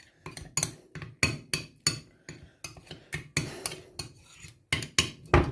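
A spoon mixes a papaya face pack with vitamin C oil in a small bowl, giving a rhythmic series of sharp clinks and taps, about two per second, close and crisp with no talking.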